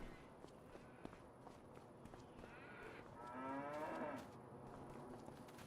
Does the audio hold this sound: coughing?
no